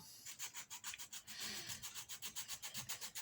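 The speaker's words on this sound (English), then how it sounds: "So a bit of emery. I'm going to take just a bit off the bottom" Emery paper rubs a small part for a model truss bridge in quick, even back-and-forth strokes, a close, soft scratching rhythm of roughly five strokes per second with no one talking.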